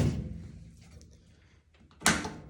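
Door of a Central Machinery 59477 benchtop blast cabinet from Harbor Freight being handled, with faint rattles followed by a single sharp, loud knock or close near the end, recorded up close.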